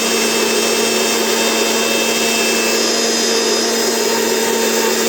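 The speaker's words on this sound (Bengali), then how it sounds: "মিক্সিতে সুন্দর করে গুঁড়ো করে নিই" Electric mixer grinder powdering mustard cake, eggshells, tea leaves and banana peels, a loud steady whirring drone running without pause throughout.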